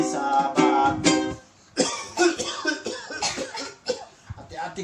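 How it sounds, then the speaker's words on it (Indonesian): Several harsh, voiced coughs in quick bursts, a short pause, then a longer run of rougher coughing and throat sounds, close and fairly loud. "Aku bisa batuk."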